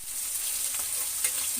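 Turmeric and dried-chili spiced fish sizzling in hot oil in a home kitchen, a close, fairly soft hiss with small crackles and a brief stir-like clatter near the end.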